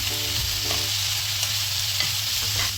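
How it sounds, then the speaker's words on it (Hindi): Shredded cabbage and mixed vegetables for Hakka noodles stir-fry in a hot pan, a steady close sizzle with soft scraping stirs and no talking. "पत्ता गोभी डालने के बाद ज़्यादा नहीं भुनना है यहाँ पर इनको, सब्जियों को।"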